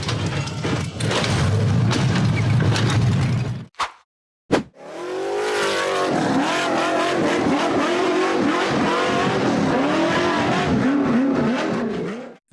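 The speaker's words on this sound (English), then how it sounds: "The gray buggy accelerated up a rough dirt slope in the forest" Gray off-road buggy revving hard as it climbs a rough, steep dirt slope in a forest, the engine roaring loud and close, cutting out briefly, then surging again with rising and falling revs.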